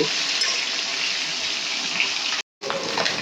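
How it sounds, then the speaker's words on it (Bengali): Snakehead fish frying in mustard oil, a loud continuous sizzle with a brief break before the hiss resumes, heard close up with no talking. "মাছগুলো আমি ভেজে তুলে নেব"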